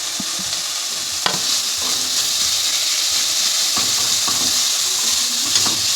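Capsicum, cabbage, grated carrot, coriander leaves and green chilli stir-fry for a cabbage momo filling, giving a continuous close hiss and sizzle broken by scraping stirring strokes.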